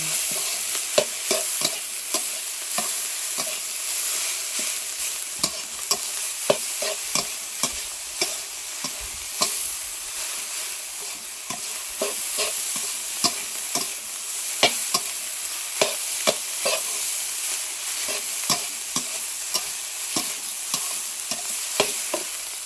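Rice stir-fried in a pan with homegrown kale shoots and soy sauce: continuous sizzling frying with steady, irregular clinks and scrapes of a utensil stirring against the pan, close and alone with no talk.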